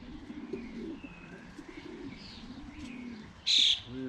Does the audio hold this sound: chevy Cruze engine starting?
no